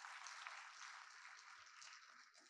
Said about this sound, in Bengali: আমরা একটা জোরে হাততালি দেই